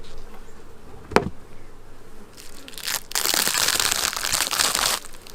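Honeybees buzz around beehive nucs in a growing colony, a dense swelling drone that rises loudly midway after a quieter start, with a sharp knock near the beginning.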